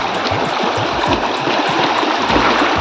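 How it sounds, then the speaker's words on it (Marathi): Glacier meltwater stream in Ladakh's Nubra region rushing loudly and continuously close by, a dense gurgling roar with splashing surges. "हे सगळं ग्लेशियरचं पाणी आहे"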